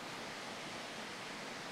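A small waterfall flows at an overnight campsite, a steady, even broadband rush of water with no breaks and no voices.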